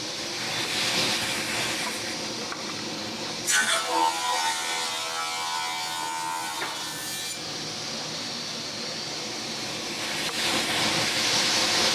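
A woodworking machine flattening boards so they come out as flat as jointed stock, droning steadily, with a louder grinding pass as a board feeds through in the middle.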